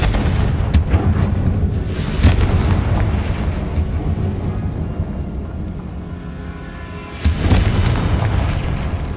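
Confringo explosive spell cast in the Hogwarts Legacy video game: deep booming blasts hit around two and seven seconds in, over a continuous rumbling roar of game ambience, loud and close, with no talking.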